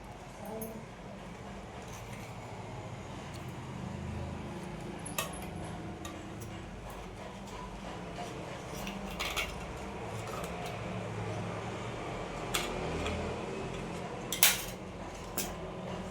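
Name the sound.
spoon scraping ragi idlis out of the steamer plate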